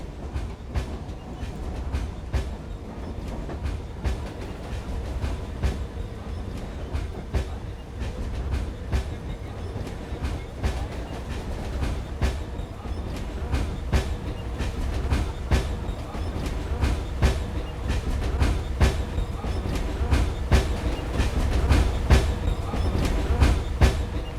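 A moving passenger train gives a continuous low rumble with regular clickety-clack wheel beats, heard from inside the carriage and growing slightly louder toward the end.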